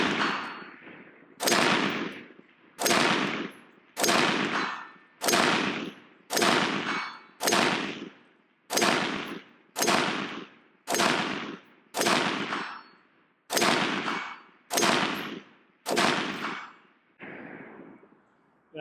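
A 16-inch AR-15 rifle with a scope fired at a target, giving about fourteen loud, sharp shots at a steady pace roughly one per second, each with a short ringing decay, and no talk.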